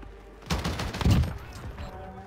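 Oden rifle fire from a first-person shooter game cracks in a short burst of a few heavy shots close together, then trails off into a faint tail with no talk.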